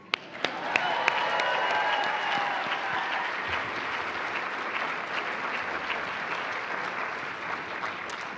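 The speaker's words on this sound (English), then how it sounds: "Great round of applause." A large audience at a NASA astronaut candidate graduation ceremony gives sustained, even applause that opens with a few sharp claps and holds steady throughout.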